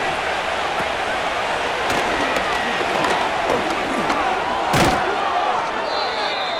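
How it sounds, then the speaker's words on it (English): A stadium crowd roars in a Madden NFL 25 football game between Baltimore and Cincinnati. The dense cheering stays steady for the whole stretch, with a few thuds and sharp bangs over it, and a commentator talks at times. "This crowd into it now as we get to 3rd down."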